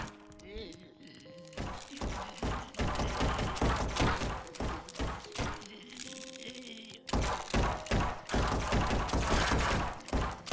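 Defenders on the walls in a free zombie defense game firing guns in rapid, overlapping volleys of cracks and thunks, with a few tonal game sounds in between and a voice talking over the shooting.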